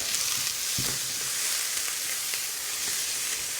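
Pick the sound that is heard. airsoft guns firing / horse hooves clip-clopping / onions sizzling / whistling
onions sizzling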